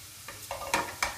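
Pieces of duck fry in a pan with a soft sizzle, punctuated by a few sharp knocks and scrapes of a utensil stirring close by.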